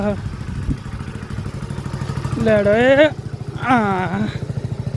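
A motorcycle engine idles with a steady low rumble while someone learns to ride it, with people talking loudly over the engine throughout.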